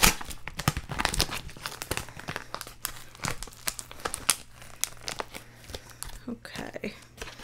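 A plastic mailer package is torn open by hand, with crinkling plastic and ripping bursts repeating over several seconds, close and fairly loud, while a person speaks intermittently.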